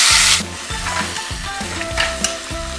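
Steady sizzling of a ground garlic, ginger, onion and tomato paste frying in hot oil in a kadai, with a loud burst at the start and scraping stir sounds repeating underneath.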